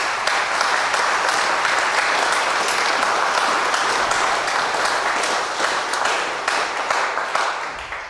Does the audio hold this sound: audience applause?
yes